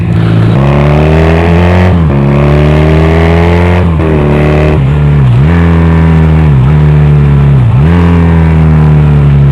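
A Honda Rebel 250 motorcycle is downshifted without rev matching, its loud engine close by, with each gear change marked by an abrupt dip in pitch and a lurch before it climbs again.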